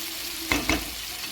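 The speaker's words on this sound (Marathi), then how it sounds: "मग कारलं फ्राय करून घेऊ" Sliced bitter gourd fries in hot oil in a pan with tempered mustard seeds, a steady close sizzle broken by two quick stirring scrapes, with no talking.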